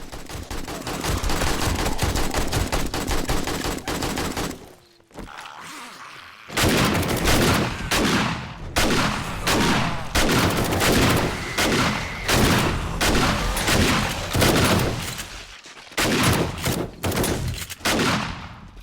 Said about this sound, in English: I got my turrets out here, and I got my AK ready to rock.